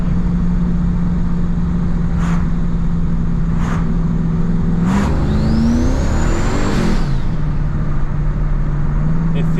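Dodge Dakota truck with an 8.8 axle swap revving hard and accelerating, a loud steady engine drone with rising whine and pitch sweeps as a single tire spins, with faint chirps.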